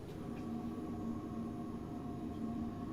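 Train in Train Sim World 5 giving off a steady, annoying low CFA buzz, a continuous hum with faint tonal lines, fairly quiet and constant throughout with no talking.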